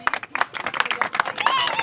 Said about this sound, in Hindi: जोरदार तालियां मिल गए।